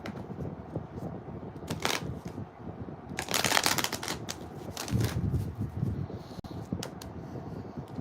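A deck of tarot cards is shuffled close up, with riffling and sliding bursts and loud flutters in the middle, continuing over several seconds with no talk.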